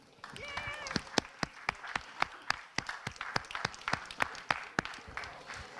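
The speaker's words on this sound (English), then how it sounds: "a big round of applause to them and to Florian" Scattered applause from a small audience, with individual claps standing out sharply over a light bed of clapping and murmuring voices.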